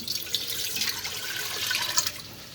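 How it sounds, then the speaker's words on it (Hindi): Two cups of water are poured into a cooking pot to start gulab jamun syrup, giving a steady, close splashing and rushing of water that runs unbroken for a few seconds with no talk. "2 कप पानी हमने इसमें ऐड कर देना है।"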